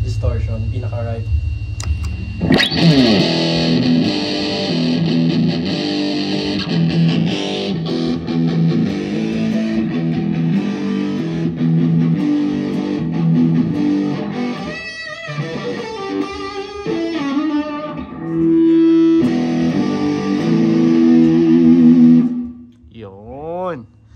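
An electric guitar plays through a pedal set to heavy distortion, with loud, dense strummed chords and sustained notes that stay prominent throughout. Brief pauses break the playing, and some talking is mixed in near the end.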